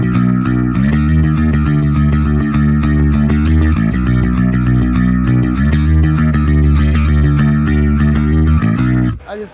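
A bass guitar played through a Fractal FM9 with a wide chorus effect, loud and close: sustained, shimmering, slightly distorted notes in a steady line that cuts off abruptly at the end.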